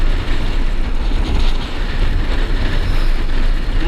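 A train rumbles past close by, a loud continuous roar of wheels on rails with faint clattering throughout.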